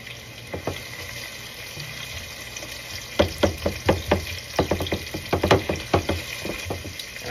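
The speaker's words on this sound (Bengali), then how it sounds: "অ্যারোমেটিক্স দিয়ে ফেলছি" Aromatics fry in a hot pot for Eid ul-Adha meat cooking, a steady sizzle broken by a run of sharp stirring scrapes and clacks from about the middle onward, close and fairly loud with no talk.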